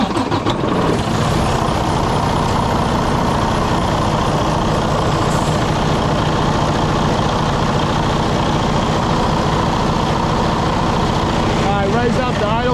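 A truck engine with a possible coolant leak idles loud and close in a low, steady rumble throughout, with voices heard over it now and then.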